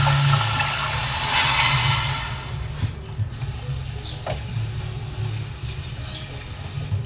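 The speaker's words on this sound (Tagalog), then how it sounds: "Lagyan po tayo ng tubig." Water poured into a cooking pot while making sinigang sa kamias with ground pork, a steady rushing pour that is loudest at first and then eases into a softer, continuing trickle with no talk over it.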